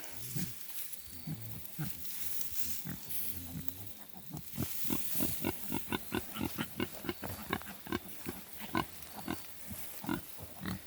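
Rapid little grunts and oinks from a group of piglets, growing busier and louder partway through, with some rustling movement in the background.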